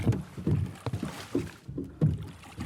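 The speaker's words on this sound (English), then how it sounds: "I found these perfect boat sounds on Artlist for when they're getting up and moving on the boat." Creaking, knocking and shifting sounds of people getting up and moving around on a small boat, a series of irregular thumps and creaks spaced through a short stretch, close and fairly quiet.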